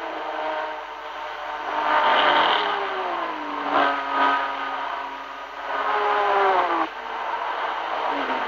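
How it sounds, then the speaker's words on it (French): Ford and Ferrari race cars roaring around the 1966 Le Mans 24-hour circuit, loud sustained engine drone with pitch sweeping up and down as cars pass, alone without voices. "La 1 et la 3 mènent, mais derrière, le 27 Rodriguez et le 20 Garciotti l'étalonnent. 2 Ford, 2 Ferrari, la lutte aussi"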